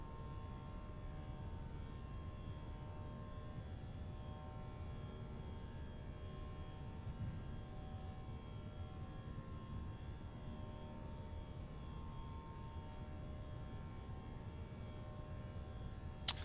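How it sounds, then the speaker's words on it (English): Jet airliner engines at climb thrust after takeoff from Palm Springs in Microsoft Flight Simulator 2024 give a faint, steady, even drone with a low rumble and a thin whine, with no voices. "We'll wait for the climb thrust to kick in."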